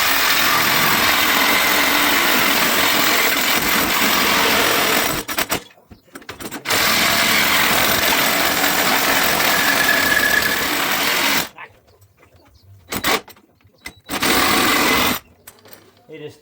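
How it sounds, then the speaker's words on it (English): A power tool cuts through the metal frame of a Ryobi RM480e electric mower, a loud steady mechanical whir that runs for about five seconds, stops, resumes, then cuts in and out in short bursts. "I started cutting on the front."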